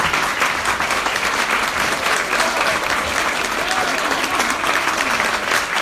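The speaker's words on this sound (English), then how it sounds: "So please give a very loud cheer for Diana Gabaldon." An audience at a Waterstones author event applauds and cheers loudly and continuously, a dense, steady wash of clapping throughout.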